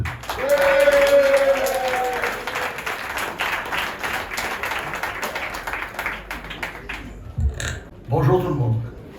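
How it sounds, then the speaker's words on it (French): An audience at a political list presentation in Pointe-à-Pitre applauds a candidate: moderately loud clapping at first that fades over several seconds, with someone speaking over it and a voice cutting in near the end. "je vous demande d'applaudir s'il vous plaît"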